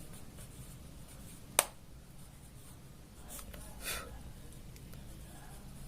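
A pen or pencil writes on a paper science worksheet, with faint, quiet scratching strokes, a brief sharp tap, and a short stretch of scribbling over low room hum.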